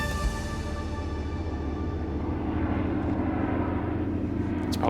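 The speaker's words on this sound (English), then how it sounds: "It's probably Scott's plane going home." A propeller airplane drones overhead, a loud sustained engine hum with steady tonal layers holding throughout, no voices.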